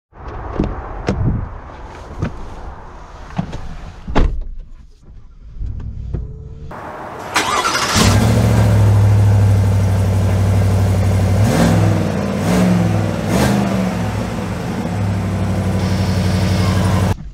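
A few clicks and door thuds, then a 2023 GMC Sierra 1500 AT4X pickup truck's engine starts and runs with a steady low rumble, revving slightly as the truck pulls away.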